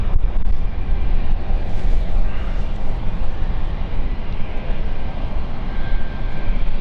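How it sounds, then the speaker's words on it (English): Jet engines of an Embraer E190 spool up at London City airport, a loud, steady low roar with a rising faint whine drifting through, no voices. "one spawning up right now is our dubbing flight ready to go of a E190."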